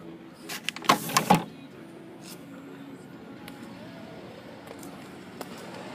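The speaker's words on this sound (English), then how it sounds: "Panoramic sunroof that you can close off." Power panoramic sunroof on a 2011 Chevrolet Traverse AWD closing with a soft, steady motor hum inside the cabin, preceded by a few brief knocks and clicks near the start.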